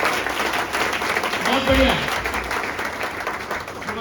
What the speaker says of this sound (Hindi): अभी तक की सबसे जोरदार ताली